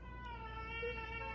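A displeased cat lets out a drawn, wavering meow, up close and fairly loud, holding steady for about a second with no talk over it.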